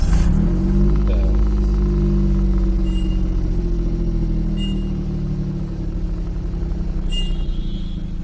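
A car engine rumbling as it pulls away in first gear during a beginner driving lesson, a steady, close, low drone with faint clatters on top.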